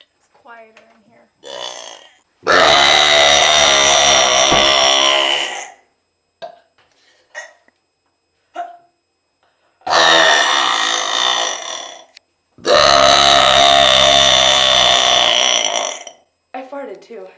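Loud, long belches from a girl, three drawn-out burps each lasting a few seconds, separated by quieter pauses with brief bits of talk and small noises in an indoor storage room.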